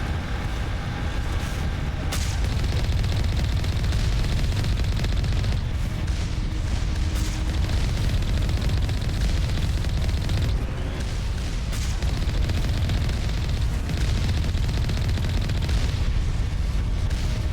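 Gunfire and booming blasts in Mass Effect rattle continuously, with dense crackling shots, sharp pops and deep explosive thuds layered into a loud, chaotic firefight.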